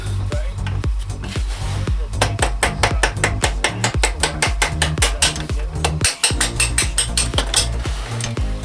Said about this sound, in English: And then that bolt needs to be punched out.